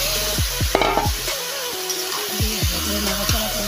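Chicken pieces fry with potatoes in a pan for chicken kosha, giving a loud, continuous sizzle broken by regular scraping sweeps of a spatula stirring the meat.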